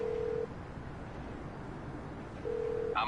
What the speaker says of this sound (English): call your mechanic from your phone